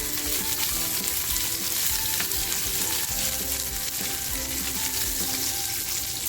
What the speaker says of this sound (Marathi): लसूण टाकते तेल अगदी छान तापले त्याचबरोबर मिरची टाकते